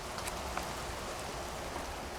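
Rain falls steadily on a February morning in Tampa, Florida, a soft, even hiss of drops with a few faint individual patters, quiet and continuous with no voices.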